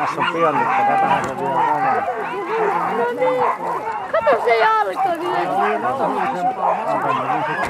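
A sled dog racing team at a race in Heinola barks and yips excitedly in a dense, continuous chorus, loud and close, while someone talks over them.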